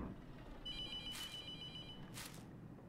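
In a horror game set in a mortuary, a phone's shrill electronic ring repeats in steady bursts against a quiet background, with nobody talking.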